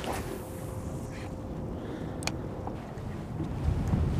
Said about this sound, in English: That wind is kicking.